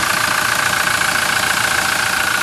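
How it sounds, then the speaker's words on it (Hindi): A 2019 Toyota Hilux E Double Cabin 4x4 idles steadily and loudly up close. Its 2.8 litre (2755 cc) diesel engine gives an even, continuous rumble with a faint rhythmic clatter and no speech. "इसके अंदर आपके पास 2800 cc जो कि 2755 cc का डीजल इंजन मौजूद है।"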